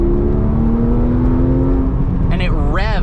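Porsche 997 GT3 RS 4.0 flat-six engine droning loudly at steady revs from inside the cabin, then rising and falling in quick swooping rev sweeps near the end, with road and wind roar underneath.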